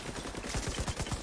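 Rapid bursts of automatic gunfire in The Division, a dense run of close, loud shots firing in quick rhythm with no talking over them.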